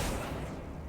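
An Accio spell cast in the Hogwarts Legacy video game gives a loud, one-second burst of dense, rumbling whoosh that starts bright and eases off slightly toward the end, with no voice over it.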